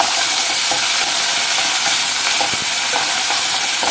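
Onions, curry leaves and spices fry in a pan for a cauliflower curry, a steady close sizzle with a few stirring scrapes, no voices.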